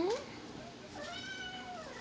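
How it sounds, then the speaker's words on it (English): A kitten meows a few times, rising and wavering, close by and fairly soft, with faint background activity at a drawing desk. "That was my new kitten."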